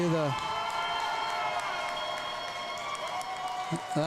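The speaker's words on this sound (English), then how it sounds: "You can hear the crowd cheering here." Crowd cheering and applause fill an arena at a varsity hockey game, a steady loud roar with whistles and shouts throughout; a voice speaks briefly at the start and end.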